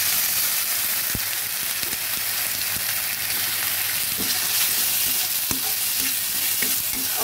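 Onion paste fries with ginger and garlic in a pan, giving a loud, steady, close sizzle with occasional scrapes and clicks of stirring and no voices.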